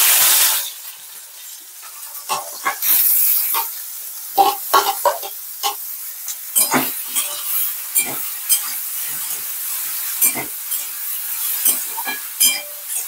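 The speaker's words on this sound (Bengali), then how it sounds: "চলো বেগুনগুলো ভেজে নিই" Eggplant slices frying in hot oil in a wok, a loud spitting sizzle at the start followed by irregular sharp pops and crackles of spattering oil, close up, with no voices.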